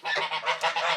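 Farm birds crowd inside a new, dry winter shelter during cold, snowy weather, with loud, close goose honks overlapping in a continuous nasal chorus.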